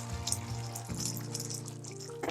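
Water from a glass poured into a pan of spicy Tamil egg thokku (egg curry) cooking on the stove, a short steady splash and gush that runs for about two seconds and swells at the end.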